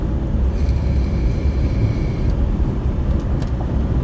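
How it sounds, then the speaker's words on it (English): Steady broadband road rumble and wind buffeting pour through an open car window during a drive in California, loud and continuous for the whole stretch, with faint higher tonal whine near the start. "I apologize for this window being open,"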